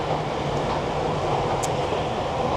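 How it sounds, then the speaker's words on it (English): Steady, loud low rumble of a train at a station platform in Jakarta, Indonesia, with constant mechanical hum and a faint high squeal partway through. "let's go and check the platform and the train"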